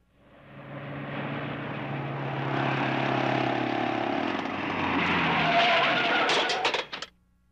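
A car engine roars and rises under sustained tire skidding for several seconds, loud and close, then a burst of sharp crunching impact sounds as it collides with a tricycle and cuts off.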